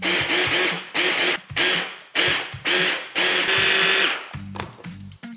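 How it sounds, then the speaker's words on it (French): A food processor pulsing softened butter runs in repeated short whirring bursts of about a second each, loud and close with brief gaps between pulses, ending with a couple of quicker, lower stutters. "on va mixer à nouveau. Mixer plutôt par à-coups."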